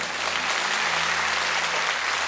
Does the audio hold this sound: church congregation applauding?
yes